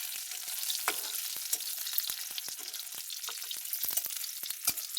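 Raisins fry in hot oil in a home kitchen pan, giving a steady close sizzle with scattered sharp pops and crackles across the whole stretch and no talking.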